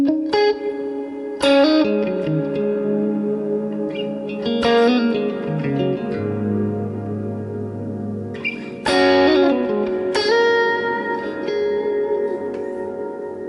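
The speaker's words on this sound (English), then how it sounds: "Just a beautiful reverb" An electric guitar runs through a NUX MG30 processor's damp-style reverb setting. Sustained chords ring out with long, lush tails, each new strum blooming over the decaying wash of the one before.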